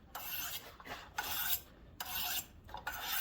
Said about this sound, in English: you're just going to swipe this a few times on each side until the burr comes off of the blade